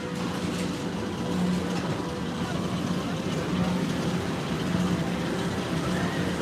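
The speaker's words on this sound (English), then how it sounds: "You can hear all the cars rumbling." PeopleMover ride cars rumbling inside Space Mountain at Magic Kingdom: a steady low mechanical rumble with a faint hum, continuous and fairly loud, with indistinct crowd voices mixed in.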